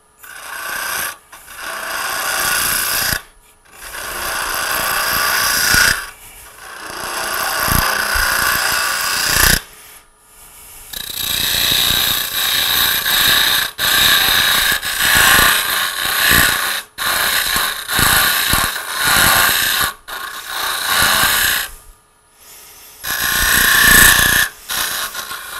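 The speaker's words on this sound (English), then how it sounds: "So we can widen out or deepen the hole a little bit." A wooden acorn box is hollowed out with a power tool, the hole widened and deepened in uneven rasping, scraping bursts separated by short pauses, loud and close with no talking.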